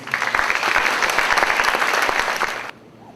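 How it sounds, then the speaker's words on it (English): An audience at a university lecture event claps warmly, dense sustained applause that fills the hall and then stops abruptly, no talking over it. "Let's give him a warm applause."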